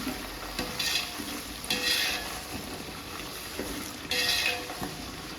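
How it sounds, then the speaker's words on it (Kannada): Food frying in oil in a pan for a home hair-care recipe, a steady close sizzle with periodic stirring and scraping bursts, no talking. "ಸ್ವಲ್ಪ ಫ್ರೈ ಆಗಬೇಕು."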